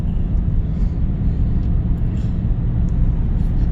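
A 2006 Subaru Legacy 2.5 engine runs with a steady, close low rumble as the transmission shifts, with no talk over it.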